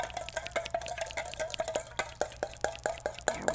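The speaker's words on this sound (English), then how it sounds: "Give that a nice whisk." A whisk beats seasoning with salt and black pepper in a bowl, producing a quick run of light rhythmic clicks and taps, close and quiet.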